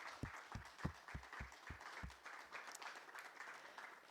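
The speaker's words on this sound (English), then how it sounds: "So round of applause for David." Audience at a community league plaza ribbon cutting claps in scattered applause, faint and distant, with a few sharp louder claps at first that fade into soft continuous clapping.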